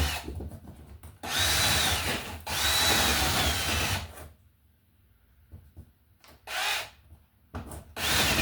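A power drill bores a hole through a wall for a Honeywell thermostat, whirring loudly in three sustained runs separated by pauses with light tapping and handling noises, close by.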